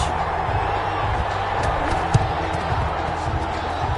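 A large indoor crowd at an American football game in the Superdome roars steadily and loudly throughout, a dense wash of cheering voices with a few sharper thumps and shouts rising out of it.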